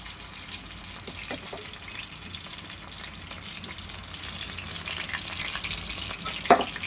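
Chicken kofta roasts in a pan with a soft, continuous sizzle and faint crackles, fairly quiet and close, with an occasional small clink near the end.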